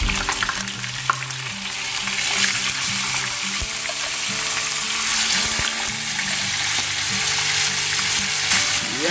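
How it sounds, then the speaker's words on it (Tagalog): Tilapia fries in hot oil in a pan with a loud, dense, continuous sizzle and crackle that holds steady throughout, with a few faint clinks in the background. "Tapos nakapagsalang na tayo dito ng kawali na may mantika. So magprito na tayo."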